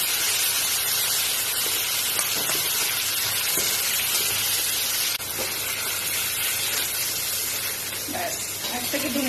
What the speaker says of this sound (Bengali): এই যে সর্ষের তেল গরম হয়ে গেছে, এইবার এর মধ্যে হালকা করে ভেজে নিচ্ছি